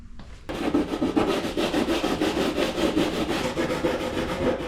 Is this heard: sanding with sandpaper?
yes